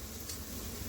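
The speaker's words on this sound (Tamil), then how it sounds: "இஞ்சி பூண்டையும் நல்ல வெங்காயத்தோட பச்சை வாசனை போக நல்லா வதக்கணும்." Ginger and garlic frying with onions in a pan for mutton biryani, giving a steady, soft sizzle with faint stirring throughout, fairly quiet and close.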